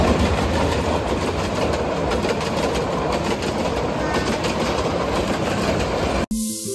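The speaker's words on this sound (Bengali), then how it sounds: "কিছু দূর যাওয়ার পরে আমরা পড়ে গেলাম রেল ক্রসিংয়ে, তাই আমরা খানিকটা সময় দাঁড়িয়ে থেকে ট্রেন আসার আনন্দ" A train rumbles past a railway crossing close by, a continuous loud roar and rattle of wagons that cuts off abruptly near the end.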